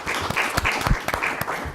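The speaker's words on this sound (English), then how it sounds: "if everybody wants to give them a round of applause for the people who are here" Applause for candidates at a legislative forum, a short burst of audience clapping, fairly close and fairly loud.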